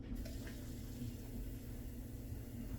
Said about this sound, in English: so I'm gonna get some water going